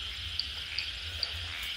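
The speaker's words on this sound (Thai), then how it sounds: "เสียงอึ่งอ่างร้องแล้ว" Narrow-mouthed toads call at night in a steady, continuous chorus, with faint regular chirps repeating about every half second over a low background hum.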